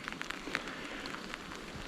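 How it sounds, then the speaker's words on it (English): Rain patters steadily outside a cabin on the Alaskan coast, a soft even hiss with scattered droplet ticks and no voices. "Very rainy day."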